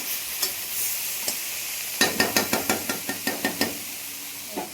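Fish sizzles steadily in hot oil in a pan, with a quick series of sharp knocks and scrapes from a utensil against the pan in the middle of the frying.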